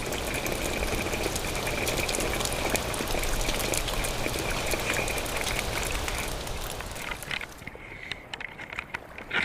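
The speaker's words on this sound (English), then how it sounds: "Then, without warning, a sudden rain squall hits." Dense, steady hiss of a sudden heavy rain squall pelting down, loud and continuous, easing and turning patchier toward the end.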